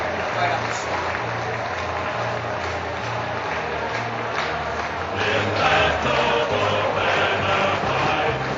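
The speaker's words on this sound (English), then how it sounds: "Crowd appreciate it." Crowd at an AFL football match between St Kilda and Sydney in New Zealand applauding after the win, a broad roar of cheering and clapping that swells partway through, with a commentator talking over it.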